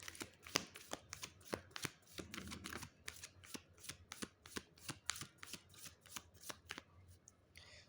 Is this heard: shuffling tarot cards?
yes